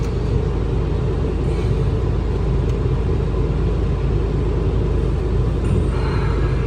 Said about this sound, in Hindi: ब्लोअर की आवाज़ इतनी तेज़ है क्योंकि मैं ब्लोअर फुल स्पीड में कर रखा है